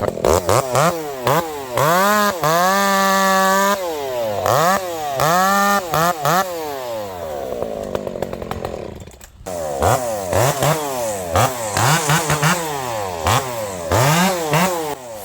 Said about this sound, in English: I really want you guys to listen to how this saw runs.